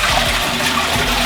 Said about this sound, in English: It's making a strange noise when we flush the toilet.